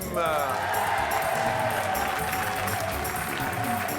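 Studio audience applause on a French TV game show, steady clapping across the whole stretch with music and a voice running underneath it.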